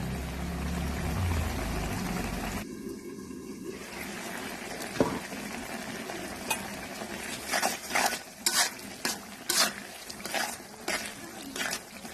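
Mola fish and pipuli greens cook in a pan, with steady sizzling under repeated scraping and clinking of a spoon against the pan, growing busier toward the end.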